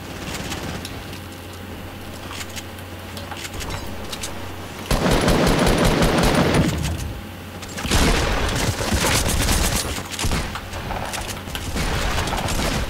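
Gunfire in the video game Fortnite Battle Royale: dense, sustained rapid-fire bursts and booming shots over continuous game noise, loud and close, with a brief lull before the firing resumes.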